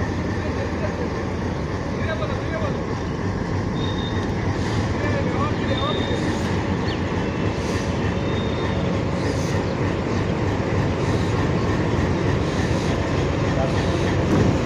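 A locomotive couples to railroad cars at Haldibari station. A steady broad rumble of rail equipment and station noise runs throughout, with faint clanks and scattered chirps, and no clear single coupling impact.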